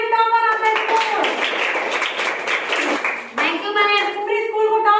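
Clapping for the school topper, a fifth-grade student, at a class 5 farewell ceremony, a dense burst of applause lasting several seconds with talking and children's voices over it before and after.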